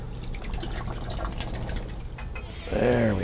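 Liquid gurgles and trickles through an auto siphon while transferring home-brewed mead, a soft continuous watery flow with a brief bubbling rise near the end.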